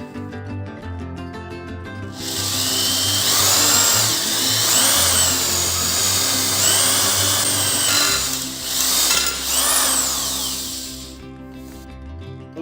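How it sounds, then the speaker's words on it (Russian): A power drill bores a hole through a metal grill damper, a steady loud whine with squealing pitch bends as the bit bites, spinning up after a quiet start and winding down at the end. "И буду сверлить отверстие."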